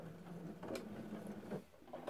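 A sewing machine stitching backwards to close a hole in a fat quarter skirt, quiet close mechanical whirring in short bursts with faint clicks.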